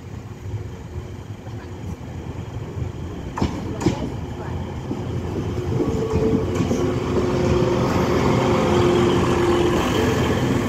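A TransPennine Express Class 185 train runs past a level crossing, its rumble and rail clatter growing louder and steadier over several seconds, with a few sharp clicks early on.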